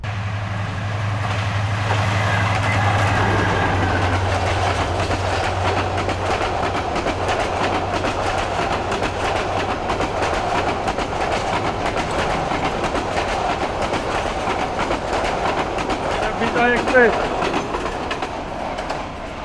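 A train at Barabkunda railway station makes a loud, continuous rumble with a rhythmic clickety-clack of wagons rolling close by and holding steady throughout.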